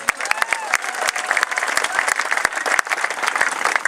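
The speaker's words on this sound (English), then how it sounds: "give them a quick thank you and round of applause" A crowd at the 2018 New Mexico Senior Olympics opening ceremony applauds warmly, with sharp individual claps standing out over a continuous roar of clapping and some murmured voices.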